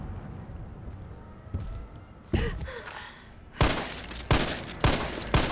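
Pistol shots ring out against Nemesis in Resident Evil 3, starting with a couple of softer bangs and building to four loud, sharp reports spaced about half a second apart.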